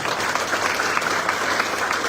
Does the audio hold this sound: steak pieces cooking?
no